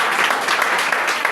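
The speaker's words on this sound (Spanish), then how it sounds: "Vamos a darle un aplauso al Señor" A church congregation claps for the Lord during a worship service, a dense, sustained round of applause from many hands, loud and even throughout with no voices rising above it.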